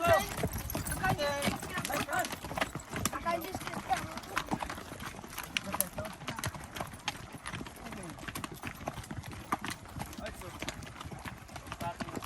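Horses walking on a road, their hooves clip-clopping in a steady close rhythm throughout, with people talking over them.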